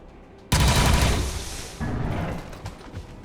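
A soldier fires at a Muton in XCOM 2: War of the Chosen. Two heavy, close gunfire bursts land over a second apart, each with a booming, rattling tail.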